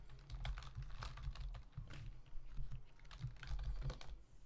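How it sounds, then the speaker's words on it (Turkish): Fingers tap on a computer keyboard entering a command, a quiet, close run of uneven plastic key clicks in short bursts with small pauses, no voices. "daha sonra ipconfig slash all yazdığımızda"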